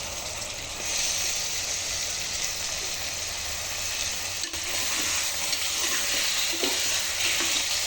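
Chicken pieces frying in oil with turmeric while being stirred: a steady, loud sizzle holds throughout, broken by a few scraping clicks of the spoon against the pan.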